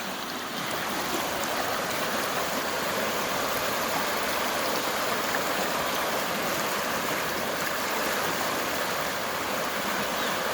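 An overflowing creek swollen after rain rushes steadily nearby, a dense, even roar of water with no pauses and no voices.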